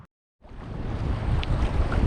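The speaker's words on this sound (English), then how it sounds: "Straight out from me is the open ocean, and this is a jetty that leads into St. Augustine" Open-ocean waves at the St. Augustine jetty in Florida set up a broad, steady wash mixed with wind buffeting on the microphone, starting abruptly after a brief silence and continuing loud and close.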